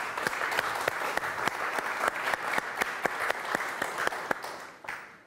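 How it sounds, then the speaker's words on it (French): Applause for game show contestants on a French word-and-numbers quiz, a steady studio audience clapping with crisp individual claps, moderately loud and continuous before fading out at the end. "Applaudissements pour Bruno et Yarno."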